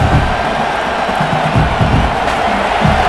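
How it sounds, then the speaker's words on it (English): A home stadium crowd in the NCAA College Football 26 video game, during a Penn State Nittany Lions versus Clemson Tigers simulation, roars in a loud, continuous wash of cheering with scattered whoops and clapping. "this home crowd is fired up and ready to make a difference today"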